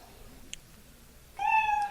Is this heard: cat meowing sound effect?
yes